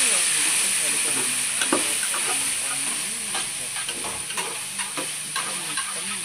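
Pasta being stirred with noodle masala and chaat masala in a pan, giving a steady sizzling hiss with soft intermittent scraping and clatter of the spoon throughout, close and moderately loud, with no talk.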